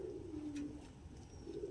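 Andalusian King pigeons cooing softly, low rolling coos heard close at the start and again near the end over a faint background hum, with no talk.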